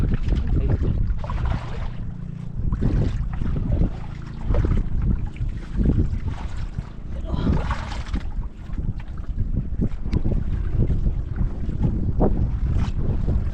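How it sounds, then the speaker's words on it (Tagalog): Strong gusts of wind buffet the microphone with loud, rumbling low-frequency bursts that swell and fade continuously. "Hangin naman mga idol."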